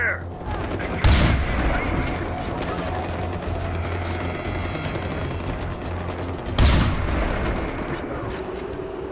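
Gunfire and explosions in Far Cry 4 rumble continuously through a battle scene, with two sharp, loud booms about five seconds apart over dense background shooting.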